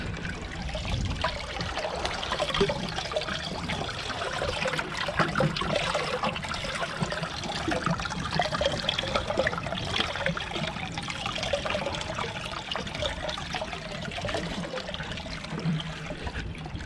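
Water drains out of a sunk jetski at a lake, a steady trickling, gushing flow that continues without letup, close and moderately loud, with no talk over it.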